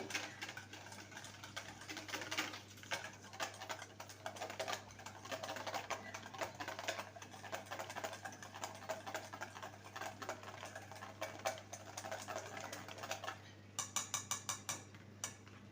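Rapid, rhythmic ticking of a whisk beating naan dough batter with baking soda in a bowl, quiet and close, continuing steadily, ending in a short burst of sharper taps.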